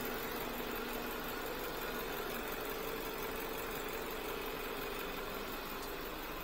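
A Jaguar XE engine idles after a radiator refill, giving a steady, even mechanical hum with a faint ticking texture, constant and uninterrupted, with no voices.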